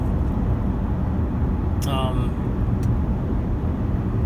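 Car driving along Interstate 86 through the New York countryside, a loud steady road rumble and wind roar from inside the vehicle, with a brief faint whistle-like tone partway through and no clear talk.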